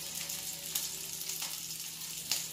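Linguiça sausage fries in oil in a frying pan, a steady close sizzle and crackle with a few sharper pops, no voices.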